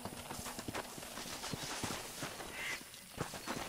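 Horse hooves clip-clopping in Red Dead Redemption on PS3, a steady run of hoof hits mixed with game ambience, with a brief duck-like call in the middle.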